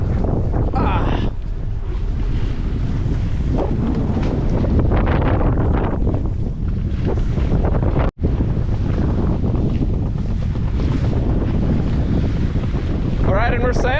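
A junk-rigged sailboat runs half reefed in strong wind, with heavy wind rumble buffeting the microphone and water rushing along the hull throughout, and people talking over it.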